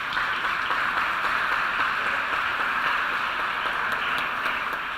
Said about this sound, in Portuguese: Peço a todos que o recebam com palmas.